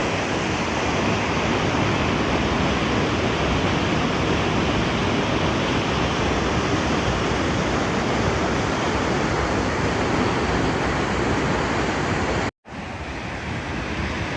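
Spahats Falls in Canada roars as a dense, constant rush of falling water, loud and unbroken. Brief wind buffeting is heard near the end, and no one speaks.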